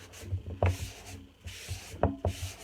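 A cloth wipes a color wash back off a top-coated wood surface in several soft, rough strokes, each a quiet rubbing scrape, close up with short pauses between them.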